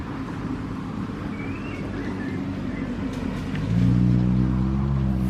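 A car passes on a rural road in Thailand near a pond, its low engine rumble growing louder toward the end over steady outdoor background noise.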